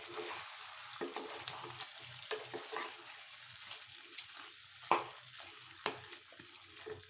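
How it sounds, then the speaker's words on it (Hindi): Chicken sizzles in a pan over high flame for chicken korma, with a steady frying hiss and occasional scraping stirs and clinks close up. "चिकेन को हाई फ्लेम रे भल भाव 2 मिनिट कषि नबा।"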